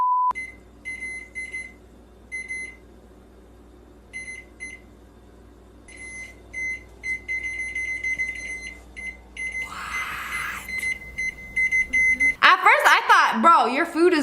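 A home microwave oven beeps in short repeated bursts, pausing between groups, over a low steady hum, with a voice speaking briefly and then louder talk near the end.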